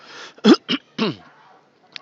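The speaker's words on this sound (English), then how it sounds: "I'm kind of clearing my throat as I go" A person clears their throat in a few short, rough bursts close up, then a brief faint click before quiet.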